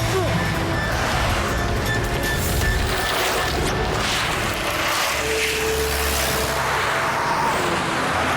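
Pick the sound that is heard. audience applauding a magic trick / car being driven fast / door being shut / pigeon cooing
car being driven fast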